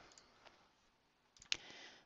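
A computer mouse clicks during an online quiz setup, a few faint sharp clicks in a quiet room, one slightly louder near the end, with no talking.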